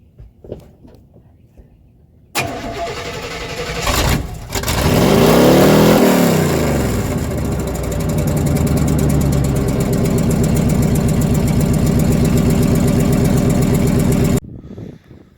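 A 1990 Chevy C1500 pickup truck engine cranks and fires after a short silence, revs loudly, then settles into a steady rumbling idle close to the microphone before cutting off.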